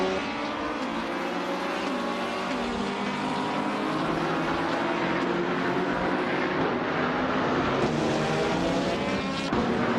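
Engines of race cars in a racing video game roaring continuously as they accelerate together, with a dense, loud, steady drone that rises in pitch and has no talking over it.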